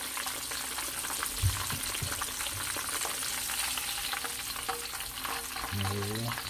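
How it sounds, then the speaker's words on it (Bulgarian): A fish fillet, thin and dipped in water, fries in hot cooking oil, a continuous dense sizzle and crackle with a few low bubbling pops, close and steady, without talk. "И това, когато ги пържим с водата, олиото се запазва чисто."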